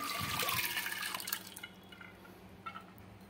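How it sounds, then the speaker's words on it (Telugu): Soaked toor dal and water poured into a pressure cooker, a close, splashing pour that is loudest at the start and then thins into scattered drips and small splashes. "వీటిని ఇప్పుడు కుక్కర్లో పోసేసుకుందాము"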